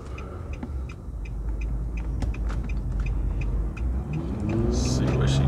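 Steady low engine drone and road rumble from a 2015 Nissan Murano cruising, with faint ticking clicks and a rising tonal hum near the end.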